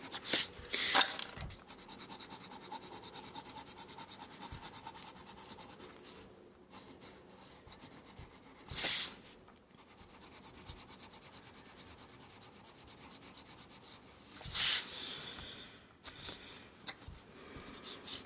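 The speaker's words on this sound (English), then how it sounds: "I'm also gonna put the white pencil on top to smudge everything together." A white pencil rubs and smudges across paper over a seashell drawing, close, in long scratchy strokes with brief pauses and a few sharper rasps between them.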